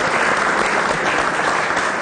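A studio audience at a Congolese TV show claps loudly and continuously, a dense, even wash of applause with no voices over it.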